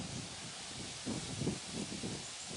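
Gusty wind rustles foliage in a perennial garden in bloom, a soft steady hiss with a few slightly louder swells, no voices.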